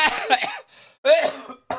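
A voice laughing in breathy bursts that break into coughing, close to the mic, with brief pauses between.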